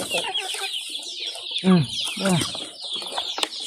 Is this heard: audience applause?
no